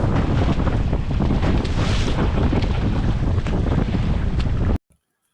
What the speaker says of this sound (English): the wind has definitely picked up by this point